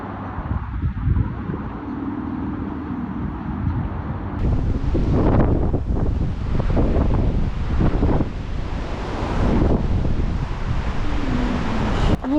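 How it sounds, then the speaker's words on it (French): Strong gusting wind beneath the Golden Gate Bridge, buffeting the microphone in loud roaring bursts that swell after a few seconds and stay steady to the end, with no voices. "Bon, il y a beaucoup de vent."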